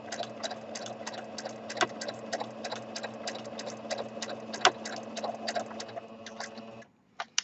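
A domestic sewing machine runs in bursts during free-motion stitching around a bird's wing on fabric, giving a quick, rhythmic needle chatter with a steady motor hum, moderately close, then stopping just before the end.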